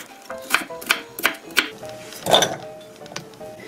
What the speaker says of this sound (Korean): 배 대신 제가 참외 반 개 남은 거 여기다 썰어서 넣겠습니다